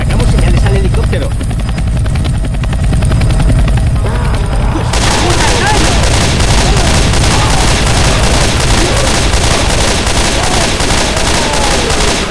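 Helicopter in the video game Left 4 Dead 2, a loud continuous rotor thrum with rapid chopping pulses, mixed with bursts of gunfire and shouting players.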